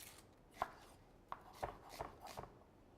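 Vegetables such as onion and celery root roughly chopped with a knife on a cutting board: five or six distinct, uneven thuds, close and fairly quiet, with no talking.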